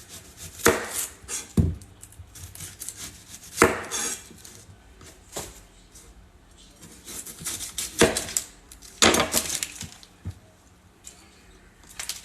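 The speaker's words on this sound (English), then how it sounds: "So we're going to cut half an onion" A knife slices through half an onion on a cutting board for Mexican meatball soup, giving a handful of crisp, irregular cuts close by with quiet gaps between them.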